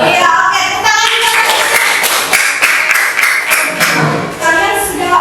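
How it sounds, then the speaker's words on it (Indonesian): Classroom clapping from a group of students, brisk uneven hand claps with a few thumps and taps, mixed with lively chatter and voices throughout, fairly close and loud. "Tepuk tangan juga."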